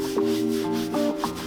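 A clay bar is rubbed across the painted body of a BMW E46 330Ci, producing a close, continuous squeaky rubbing in back-and-forth strokes with faint tonal squeals.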